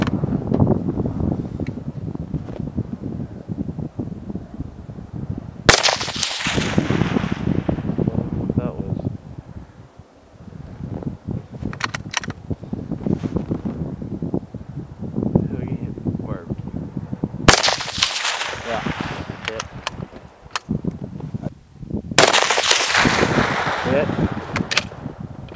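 Gunshots fired at an old TV outdoors, several loud sharp cracks spaced apart with long gaps between them, while voices talk in the background.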